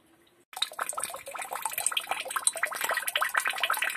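Water runs and drips where a PVC pipe joins an underground pipe, starting abruptly and then continuing as a busy, close trickle of splashes and drops.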